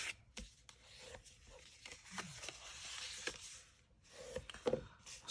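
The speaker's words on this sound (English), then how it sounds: "we're going to burnish on those lines" Soft, irregular rubbing strokes of a tool burnishing score lines on paper for a small holiday candy pouch, faint and close, with a few sharper taps and scrapes in between.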